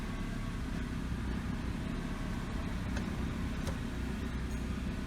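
A Nissan Sentra with an idle stalling fault idles near 1,000 RPM, giving a steady, low engine hum with a faint, even rumble and no change in pitch throughout.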